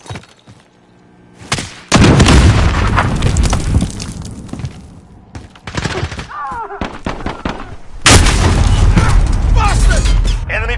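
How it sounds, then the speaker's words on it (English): Loud blasts and heavy gunfire in a Call of Duty match, a powerful boom near the start and another later, with rattling shots and game voice callouts between. "Throw a grenade."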